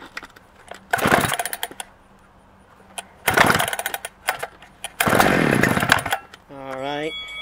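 A Husqvarna 395XP chainsaw with a 24-inch bar is pull-started from cold with the choke and decompression valve set, giving several loud, close starter-cord rips between pauses. A brief engine sputter follows at the end.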